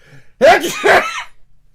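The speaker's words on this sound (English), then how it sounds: "I got to sneeze, folks." One loud, close sneeze during a radio broadcast, with a sharp intake and explosive burst, followed by a brief breathy trail.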